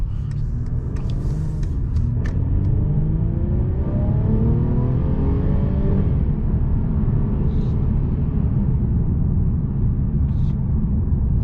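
Steady engine drone from a 2022 Mercedes-Benz E450 4Matic sedan on the move, with a rising pitch sweep as it accelerates in the first half and then a continuous loud cabin rumble.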